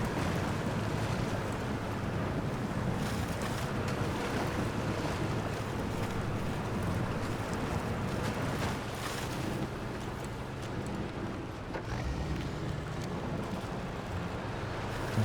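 Off-road truck in SnowRunner pushing through water: a steady, loud rushing and sloshing wash with low engine rumble underneath, continuous for the whole stretch with no talking.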